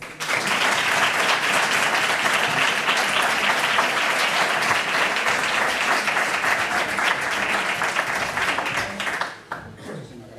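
Audience applause at a medical lecture on visual evoked potentials in infants, a dense, steady burst of clapping that holds for about nine seconds before cutting off and leaving quiet room sound.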